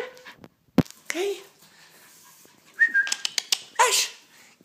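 Puppies whimper and give short high yelps and barks in bursts, close by, with gaps between and a person calling out and whistling among them.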